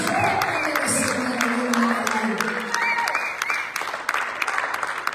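A church congregation at an evangelical worship service claps loudly and steadily, with crowd voices and a voice ringing out over the applause.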